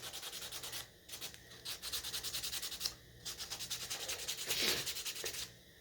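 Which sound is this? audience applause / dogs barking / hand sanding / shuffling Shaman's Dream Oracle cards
hand sanding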